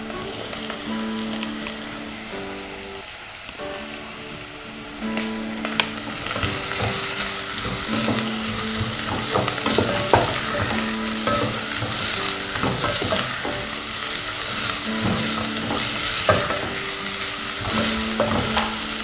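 Chopped onions sizzling and frying in a pan for fried rice, a loud steady hiss of hot oil with stirring scrapes, intensifying after a few seconds as the pan heats up, with no voices.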